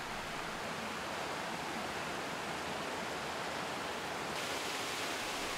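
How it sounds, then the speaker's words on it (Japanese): A mountain waterfall about six metres high pours steadily in a dense, constant roar, loud and unbroken with no voices. "分岐から50メートルほどで滝が見えてきました。"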